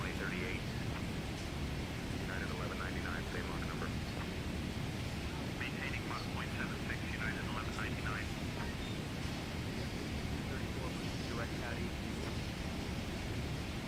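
A Boeing 777-300 in a flight simulator cruises at 37,000 feet, giving a constant broadband cabin roar that stays even and steady throughout.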